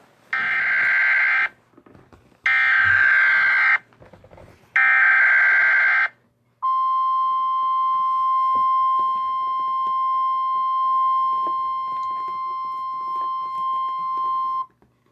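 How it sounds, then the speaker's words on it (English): An emergency alert system sounds three loud, evenly spaced electronic data bursts, then a long, steady, piercing attention tone that holds for about eight seconds, with no voices. "This is an emergency action notification emitted by the Federal Emergency Management Agency"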